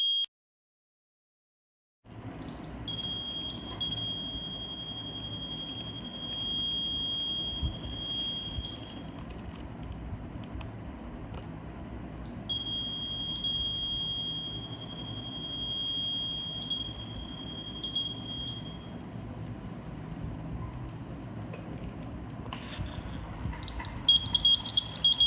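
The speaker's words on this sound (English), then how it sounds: "If the distance is less than 35 centimeter, the buzzer sound will turn on" Buzzer on an Arduino ultrasonic distance sensor circuit sounds a steady high-pitched tone over a low hum, cutting off briefly and restarting several times.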